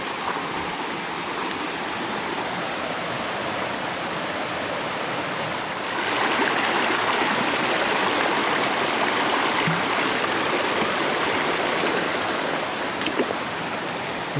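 Creek water rushes steadily over rocks at a trail crossing on the hike to Devil's Bathtub, a dense, continuous close-up babble that swells slightly louder partway through, with no voices.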